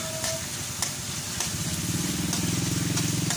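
Ground pork sizzles and crackles as it is stirred in a hot pan, a steady close frying hiss with a few scraping clicks from the spoon.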